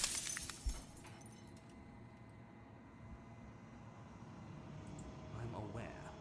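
Glass shattering in the video game Slay the Princess, a bright crash and tinkling of breaking shards at the start, then a low rumbling ambience with faint further crackles.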